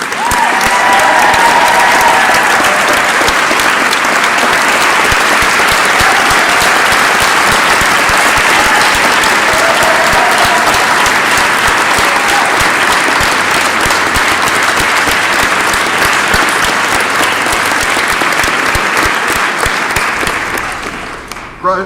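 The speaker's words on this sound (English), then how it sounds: "A round of applause for Josh Shearer." A large crowd at an Arts Advocacy Day event gives a long, loud, unbroken round of applause for art teacher Josh Shearer, with faint cheers mixed in. The clapping holds steady for about twenty seconds before tapering off.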